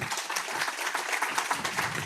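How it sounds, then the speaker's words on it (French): A conference audience applauds, with dense, steady clapping from many hands sustained throughout at moderate volume. "On peut t'applaudir encore une fois."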